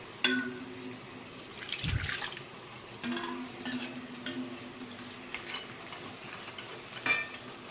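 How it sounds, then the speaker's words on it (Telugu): Water poured into a pan of prawn legs curry with ginger garlic paste, giving soft splashing and stirring sounds with faint clinks, close and fairly quiet, no talking. "కొద్దిగా వాటర్ వేసుకున్నామండి"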